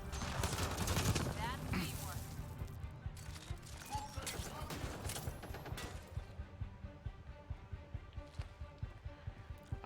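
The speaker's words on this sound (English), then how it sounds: "I see the shooting" Rapid gunfire from the video game Mass Effect, dense bursts and repeated shots that are loudest early and then keep going as steady rattling under ongoing game sound, with talk mixed in.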